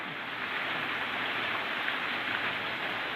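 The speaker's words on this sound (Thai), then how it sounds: "ฝนตกมาแล้วหายไปเป็นแบบนี้ประจำเลยครับ" Heavy rain falls continuously, a loud, uniform rushing hiss with no breaks or voices.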